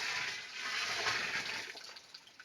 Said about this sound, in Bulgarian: Ние ще сипаме вода